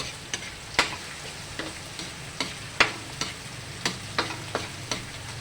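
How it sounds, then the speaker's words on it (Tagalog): Daing, dried fish, sautéing in a pan for gatang sigarilyas, with a steady sizzle under a dozen or so sharp scraping stirs that arrive at an uneven beat, close and clear, with no voices. "Lagay ko na rin po ang ating daing para po maigisa na natin"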